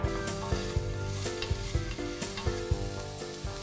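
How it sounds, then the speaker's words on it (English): A whole onion fries in a pan, sizzling steadily up close while a utensil stirs it with regular scraping knocks about twice a second. No one talks. "So a whole onion, is great for this. Okay. You just need to put it in and start stirring."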